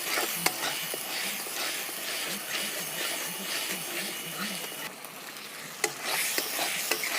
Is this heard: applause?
no